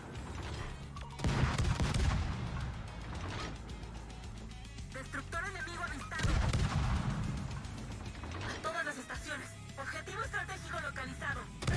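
Repeated bursts of heavy gunfire boom and rattle in clusters, with mechanical clanking between volleys, like naval cannons in a game, from the Japanese destroyer Kitakaze in World of Warships.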